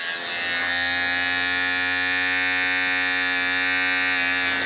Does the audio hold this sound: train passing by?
no